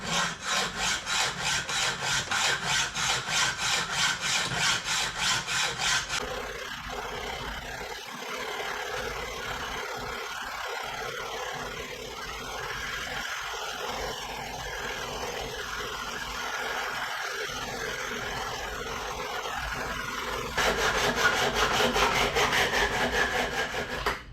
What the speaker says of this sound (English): cutting part of the feet off this Austin Montego radiator